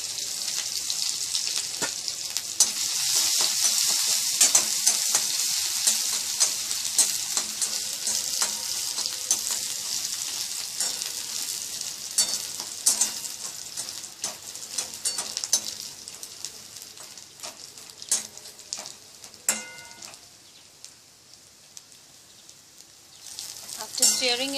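Chopped ginger and garlic sizzle in hot oil, a bright, crackling fry heard up close, broken by frequent scraping clicks of stirring that grow sparser as the sizzle eases toward the end.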